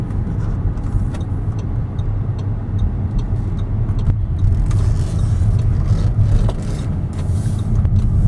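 A 2017 Audi Q3 Premium Plus Quattro AWD SUV cruises on the road, with steady road and engine rumble heard from inside the cabin and faint occasional ticks and clicks over the low drone.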